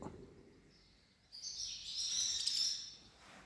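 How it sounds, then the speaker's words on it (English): Swallows call in a bright, high twittering chorus near an old monastery. The calls begin faint, then swell into a busy, fairly close burst of chirps before tapering off. No one talks. "Swallows. Not so many in here, Tim."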